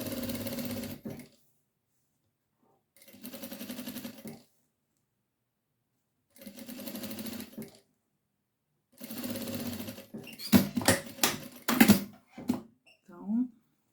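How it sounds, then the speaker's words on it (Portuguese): A sewing machine stitches a hem on a cloth baby bib in four short bursts separated by quiet pauses, each a close, even mechanical whir, followed by a few sharp clicks and clatters at the end. "com um pezinho de máquina. Então, vou acertar aqui, fazer uma costura."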